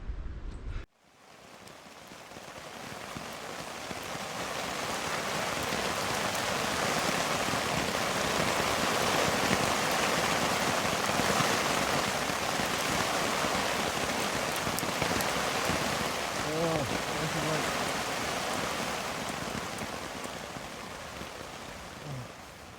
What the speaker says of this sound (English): We had some rain falling for the last about 2 hours